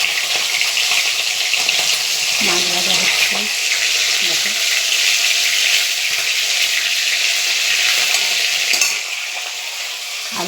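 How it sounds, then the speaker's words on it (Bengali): Rohu fish belly pieces frying in a pan, a steady loud sizzle running throughout with occasional scraping of a utensil, and a brief spoken word partway through. "মাছ ভাজা হচ্ছে,"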